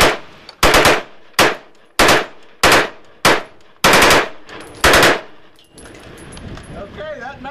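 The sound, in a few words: AR-15 rifle firing full magazine with slide fire stock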